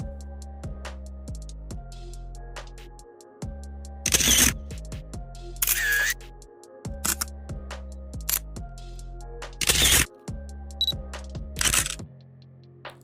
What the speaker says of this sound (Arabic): يعني صوت الكاميرا وهي بتلقط، برضو ده مشهور جدا.